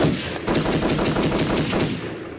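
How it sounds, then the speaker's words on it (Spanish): Loud automatic-weapon gunfire in a rapid, sustained burst of dense shots that runs almost the full length, with a brief lull near the start and no voices over it. "Fuertes disparos provocados por un arma automática."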